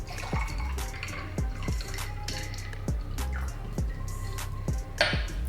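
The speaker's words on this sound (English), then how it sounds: "Then we're going to pour our grapefruit juice." Grapefruit juice poured into a glass for a gin and juice cocktail, a close, steady liquid trickle with repeated drips and splashes, no talking.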